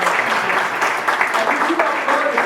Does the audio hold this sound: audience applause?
yes